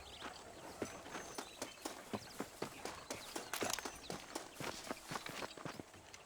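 Horse hooves clip-clop at a steady walking pace on a dirt path in the Red Dead Redemption video game, with crisp, evenly spaced close hoofbeats and no talk over them.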